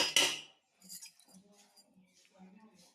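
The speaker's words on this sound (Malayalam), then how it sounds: "കഴുകി വെച്ച പയർ ഇട്ട് കൊടുക്കുകയാണ്." Washed lentils tipped into a pressure cooker make a short, sharp rattle and clatter at the start, followed by faint, scattered kitchen clinks and soft murmurs.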